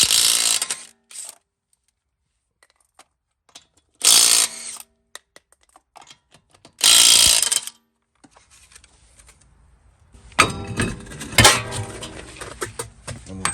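Ratchet spinning off lug nuts on the wheel of a 2006–2011 Honda Civic, several loud bursts of clicking and metallic rattling separated by silences, ending in a busier stretch of tool clatter up close.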